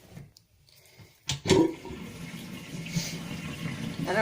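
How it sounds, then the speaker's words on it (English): Running water rinsing a soaked skein of handspun yarn in fairly cold water, a sudden splash followed by a steady, moderately loud flow that continues to the end. "give it a rinse."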